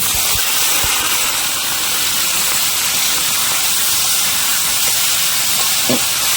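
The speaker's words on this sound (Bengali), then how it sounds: "তেল গরম হয়ে গেছে, আমরা কাঁচা লঙ্কা দিয়ে দেবো, দিয়ে এবার দিয়ে দেবো আলু" Green chillies and potatoes frying in hot oil in a wok, a loud steady hiss and sizzle that runs unbroken throughout, with a few faint knocks.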